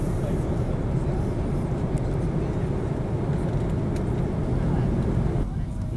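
A loud, steady low roar of Air China airliner cabin noise fills the space as the plane descends to land at Beijing Capital Airport in snowy weather, with a brief dip near the end.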